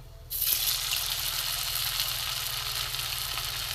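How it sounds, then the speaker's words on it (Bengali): Rice tikiya frying in a little oil, with a bright, steady sizzle starting abruptly and holding evenly, plus a faint low hum beneath. "হালকা তেলে, ডোবা তেলে আমি ভাজবো না।"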